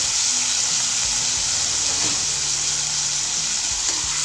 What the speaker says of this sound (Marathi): हा त्यामध्ये टाकून घ्यायचा आणि आपल्याला हा बटाटा तळून घ्यायचा आहे